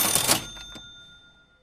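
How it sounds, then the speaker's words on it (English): Cash register sound effect: a quick burst of mechanical clicks and a bright clattering ring at the start, trailing off into a fading ring that dies away within about a second and a half, heard alone without talking. "A podcast on financial advice could have a cash register sound."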